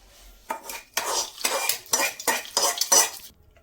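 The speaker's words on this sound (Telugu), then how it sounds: "ఇప్పుడు మనం ఈ పోపు అంతా సేమియాలో వేసేద్దాం." Tempering poured into cooked vermicelli in a basin and mixed for semiya pulihara, giving a run of close clattering, scraping strokes of a spoon against the bowl in a steady rhythm.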